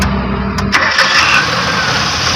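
A Mitsubishi L300 van's 4G63 gasoline engine, which has been misfiring and stalling, turns over and catches, then settles into a steady, loud running rumble close by.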